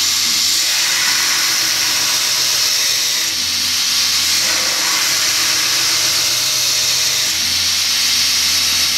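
A round bar knife edge is ground steadily on a grinder, a continuous loud abrasive hiss and whine holding without a break and with no voices.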